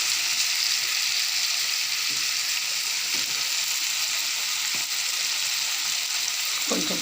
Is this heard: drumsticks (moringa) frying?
yes